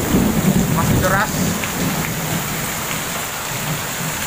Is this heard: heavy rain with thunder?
yes